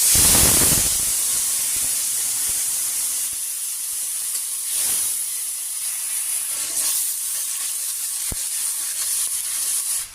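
Tomato paste and four or five green chilies hit hot oil in a pan for a vegetarian young jackfruit dish, setting off a loud, steady sizzle and hiss that stays up throughout, with a few brief clinks.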